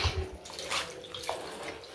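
Omena fish being rinsed in warm water, a steady splashing and trickling wash close by with no talk.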